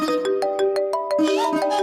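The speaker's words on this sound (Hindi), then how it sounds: "आपका फोन आ रहा है।" A phone ringtone plays for an incoming call in a drama scene, a repeating electronic melody of bright pulsed tones, loud and close, with no talk over it.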